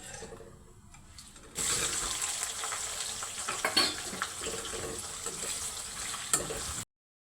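Cumin, mustard seeds, curry leaves and onion dropped into hot oil, a faint start giving way to a sudden loud hissing sizzle that holds steady with a few pops and stirring scrapes before cutting off.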